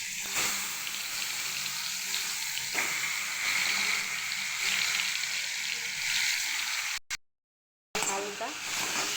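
Mango pieces dropped into hot oil with dry red chillies, mustard seeds and bay leaf make a loud, steady sizzle close by. The sizzle cuts out briefly near the end, then resumes.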